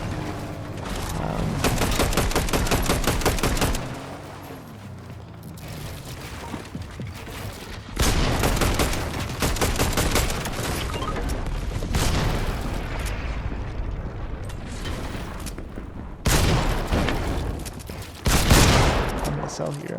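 Pump shotgun blasts from Fortnite gameplay boom out in loud, repeated bursts with short gaps between them, surrounded by clattering in-game action noise.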